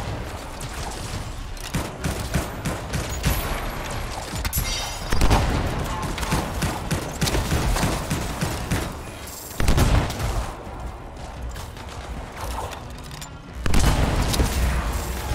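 Rapid gunfire in the Anthem shooter game comes in repeated bursts and volleys, loud and close, over continuous game noise with no clear speech.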